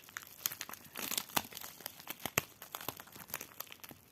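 Plastic packaging around a diamond painting canvas crinkles and crackles as it is pulled open, with irregular close-up rustles and a few sharper crunches and no talking.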